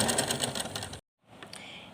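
Sewing machine stitching fabric for a small doll's dress, a close rapid whir that cuts off briefly and then resumes more softly.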